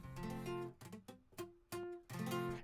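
An F barre chord played poorly on guitar, with several choppy, uneven strums and individual plucks that cut off quickly, some notes buzzing or dying, close and moderately loud with no voices.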